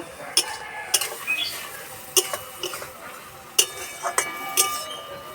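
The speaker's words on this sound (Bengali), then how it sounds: "ঢাকা দিয়ে ঝিঙে সিদ্ধ করে নেব চাপাটা খুলে নেড়ে দেব" Lid lifted and ridge gourd stirred in a pan while it steams, heard as a series of sharp clinks and scrapes of metal utensil and lid against cookware, close and fairly loud with short gaps between.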